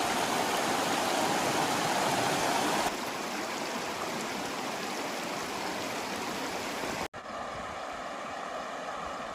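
A river flows at the Lesotho border, a steady broad rushing roar of water close to the microphone, with a sudden drop in level and a brief cut near the end.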